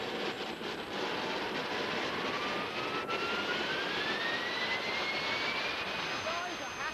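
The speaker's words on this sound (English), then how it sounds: "Now, the guys will start the motor." A jet-engine motor on a rideable board runs steadily and loudly, a dense roar with a rising whine that climbs in pitch as the engine spins up, with no pauses throughout.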